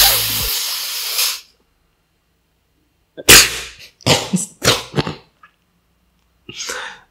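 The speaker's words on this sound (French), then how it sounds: "Mine de rien, c'était une toux, ça." A loud airy burst, then silence, followed by a cluster of sharp, hoarse coughs close by and a final smaller one.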